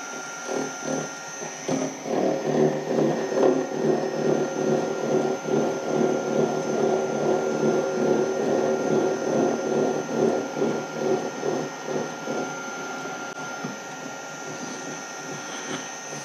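A gear being cut with a dividing head on a milling setup, a steady droning whir of the cutter with a fast rhythmic chatter that holds for a long stretch, then eases off near the end.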